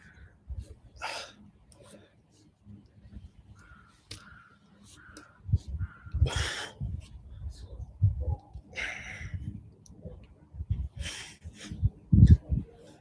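A crow caws repeatedly in short harsh bursts outdoors, mixed with breathing, movement noise and a low rumble during a live luggage workout session.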